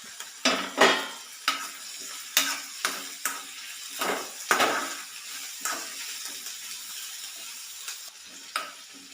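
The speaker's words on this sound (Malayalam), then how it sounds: "ഇനി ഇതിലേക്ക് രണ്ട് പച്ചമുളക് ഇട്ട് കൊടുക്കാം" Green chillies frying in a curry pan, with repeated bursts of sizzling and the clatter of stirring against the pot at an uneven rhythm, close up and with no talk.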